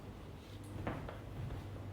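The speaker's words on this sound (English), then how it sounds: "We'll see how the door opens." A door with freshly repaired hinges is opened indoors, giving a brief soft double knock and rub in the middle of quiet low room hum.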